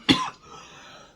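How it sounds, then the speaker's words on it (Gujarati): A person who is ill gives one sharp, harsh cough close to the microphone, followed by a short, fading raspy tail and then a quiet room. "આજ હાલત છે, ઉધરસ ફૂલ ઉપડે."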